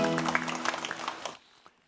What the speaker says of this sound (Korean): 우리 예수님께 영광의 박수 올리겠습니다.